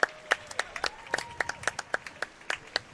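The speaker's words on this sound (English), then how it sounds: "The crowd goes wild." Crowd applause breaks out after a padel semifinal on centre court, a steady run of sharp, fairly close claps spaced unevenly over a few seconds, with no talk over it.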